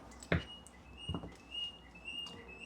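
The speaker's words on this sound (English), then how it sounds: "Listen to the bird." A bird chirps in short, thin, high calls a few times in a quiet studio, with a soft knock or tap near the start and no talk.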